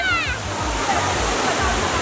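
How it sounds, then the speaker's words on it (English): Water thunders steadily from the world's largest indoor waterfall in Singapore, a broad continuous roar filling the space throughout, with a faint bird-like chirp near the start. "the largest indoor waterfall in the world"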